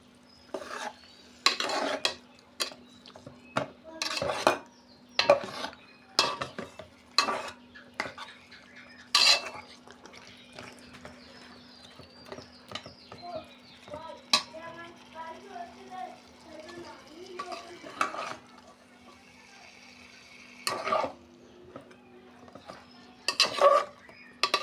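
Curry being stirred and sautéed in a pan, with repeated sharp scrapes and clinks of a metal utensil against the pan over a faint sizzle, close by, while a person talks throughout.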